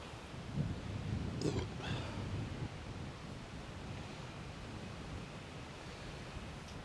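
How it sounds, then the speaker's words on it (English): Wind buffets the microphone beside the water on a fishing trip, a steady broadband roar with a stronger gust early on and a brief faint voice-like sound. "This is really windy."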